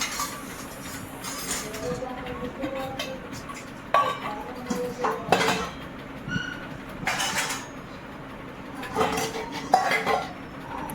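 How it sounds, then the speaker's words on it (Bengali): Dishes, pots and utensils are hurriedly washed and put away in a home kitchen, with repeated clanks and clatters of metal and crockery over running background noise, and bursts of quick handling at irregular intervals. "চলো কালকের আর আজকের বাসনগুলো ঝটাপাট করে গুছিয়ে নিই"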